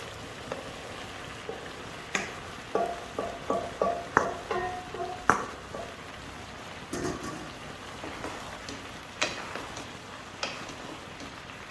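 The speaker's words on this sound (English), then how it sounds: "So now we can add our macaronis." Macaroni drops into a pan of frying chicken, mushrooms and vegetables, with soft scattered clacks and taps over a low, steady sizzle, the stirring and pouring clatter coming in bursts before easing off.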